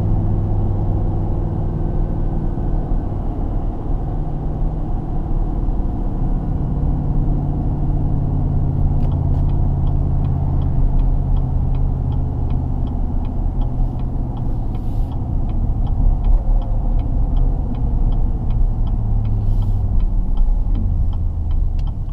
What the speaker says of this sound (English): let me show you guys what the exhaust brake does.